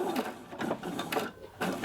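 A sewing machine stitches leather trim onto cloth in quick, faint rhythmic bursts of clattering needle strokes, closely spaced and fairly quiet.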